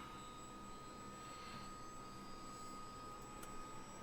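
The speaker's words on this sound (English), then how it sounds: "Engine's firing up." A CH-47 Chinook helicopter engine spins up during start in a flight simulator game, heard as a faint, steady turbine whine and hum with a high tonal edge and no voices.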